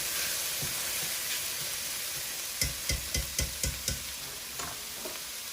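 Onions and mushrooms sizzle in a stir fry pan, a steady hiss close by, then a quick series of six sharp scrapes or taps of a utensil and a couple of fainter ones as the food is tossed; no talking.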